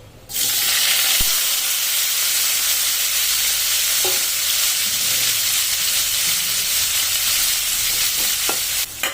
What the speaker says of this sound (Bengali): এরপর আমি যে ইঁচড়টি সিদ্ধ করে রেখেছিলাম সেই ইঁচড়টিকে একবার ভেজে নেব।